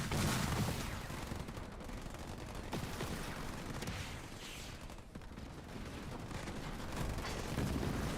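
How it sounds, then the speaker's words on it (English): Sniper fire in the Halo Wars 2 strategy game during a 2v2 tournament match, a faint, dense mix of rapid shots and booms under continuous battle noise. "And now the snipers are really opening up on that Chosen."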